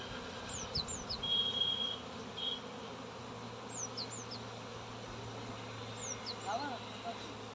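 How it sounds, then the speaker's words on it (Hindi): Honey bees fly around an outdoor beehive, a steady faint buzzing drone that persists throughout, with someone talking nearby and brief bird chirps in the background. "जो मधुमक्खी उड़ रही है तो इसी के आदेश पे उड़ रही है।"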